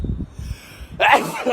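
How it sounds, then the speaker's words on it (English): A single sharp human sneeze bursting out loud after a stretch of quiet speech, close to the microphone. "Yes, that was a sneeze"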